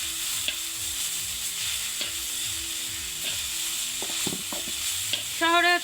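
Mixed leafy greens fry in a pan with a steady sizzle while being stirred and tossed, with scraping clatters near the end; no voices.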